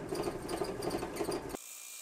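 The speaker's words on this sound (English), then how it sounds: "Now we'll drill out the old pothole for the larger kill switch hole." A power drill bores out an old pot hole into a larger kill switch hole in the wooden body of a Dean Dave Mustaine VMNT guitar, a close, steady whirring grind for about a second and a half before cutting off abruptly.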